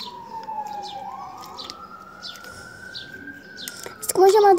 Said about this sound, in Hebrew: סליחה על הרעשים של המשטרה, או שזה אמבולנס, אני לא בדיוק יודעת.